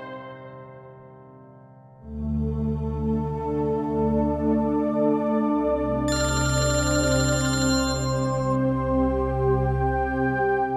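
A mobile phone ringtone plays as a loud, steady electronic melody of repeating tones, ringing continuously and gaining a brighter layer partway through, with no talking over it.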